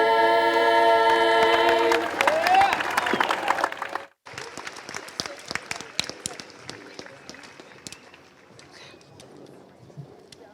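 The close of a sung Star-Spangled Banner at a high school graduation ceremony gives way to full audience applause: dense, sustained clapping from a large crowd that gradually thins out.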